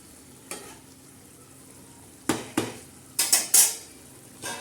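A lid set on a pan of flat bean pods cooking in red masala, producing a handful of sharp metallic clanks and clatters, isolated and close, with quiet gaps between them.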